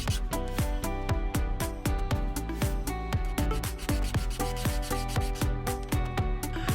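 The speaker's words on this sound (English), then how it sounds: "I'm going to sand the ends down with a nail file that I got at the dollar store" Fast, steady back-and-forth rasping of a dollar-store nail file sanding the uneven cut ends of small wooden posts for miniature tabletop beds, loud and close with a regular stroke rhythm and no talking.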